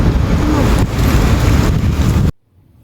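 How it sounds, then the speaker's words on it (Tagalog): Strong wind outdoors in a park buffets the microphone with a loud, steady, broadband roar for over two seconds, then cuts off abruptly into near silence. "ang lakas ng hangin"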